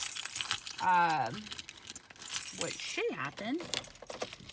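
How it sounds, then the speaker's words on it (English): A ring of car keys jangles and clinks at the ignition of a 2010 Ford Explorer whose key keeps getting stuck, in a few short metallic bursts beneath a man's speech. "take my keys out"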